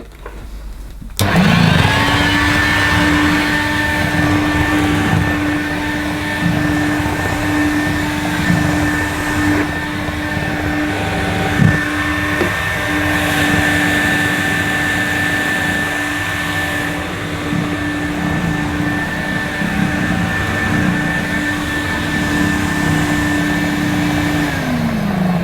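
A near-mint 1970s Electrolux 502 upright vacuum cleaner switches on and its motor runs with a loud, steady whine and hum for over twenty seconds, then begins winding down at the very end.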